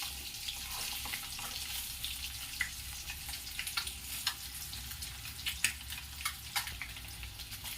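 Boiled eggs deep fry in hot oil, giving a faint, steady sizzle dotted with sharp crackles and pops scattered throughout.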